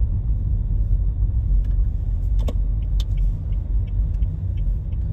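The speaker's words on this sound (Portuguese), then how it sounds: "Umas lombadas fortíssimas, galera. Que tu chega a quicar dentro do carro." A car driving over very steep speed bumps, heard from inside as a steady low road rumble with a few faint knocks and rattles from the cabin, no talking.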